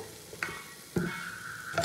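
Cooking oil heating in a pan before bata fish is cooked, giving a steady, moderately quiet sizzling hiss broken by a few sharp scraping clinks from a utensil, with no talking.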